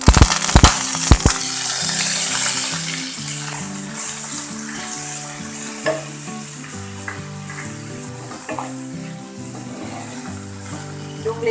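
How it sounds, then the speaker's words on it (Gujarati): Onions sizzle and crackle loudly in hot ghee with cumin seeds for a Gujarati pea chaat, with a few sharp utensil knocks at the start and continuous frying hiss throughout. "ડુંગળીને આપણે થોડી વાર માટે શેકી લઈએ"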